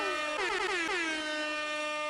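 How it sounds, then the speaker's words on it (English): Loud air horn blast with a bright, buzzy multi-tone blare that bends in pitch briefly and then holds steady for about two seconds, alone with no talk. "giving me an excuse to absolutely smash the air horn"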